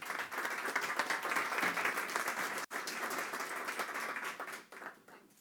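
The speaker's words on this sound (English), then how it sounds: "Ladies and gentlemen, a round of applause for your panelists." An audience applauds panelists at a conference panel, giving dense sustained clapping that carries on for several seconds, cuts out briefly, then resumes and tapers off.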